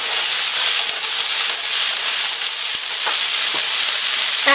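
Chopped cauliflower and small potato pieces sizzle steadily in a hot pan, a loud, dense, continuous frying hiss with faint crackles throughout and no voices.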